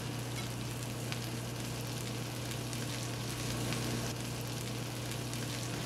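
Onions frying and caramelizing in a pan, a continuous even sizzle and crackle close by at low volume, with scattered tiny pops and no voices.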